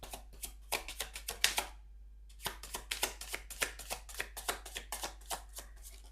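Tarot cards being shuffled by hand, a close, quiet run of rapid riffling flicks with a brief pause midway, then continuing in a steady rhythm.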